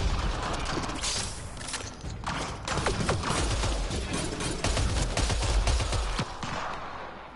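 Gunfire rattles in a sci-fi shooter on the alien world Havarl, with bursts of rapid shots mixed with mechanical clanks and creaks, loud and close over a continuous noisy background.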